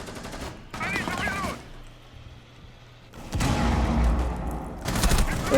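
Long-range gunfire in a ranked online shooter game: bursts of rapid shots come in two clusters separated by a quieter gap, moderately loud, with some speech mixed in during the first burst.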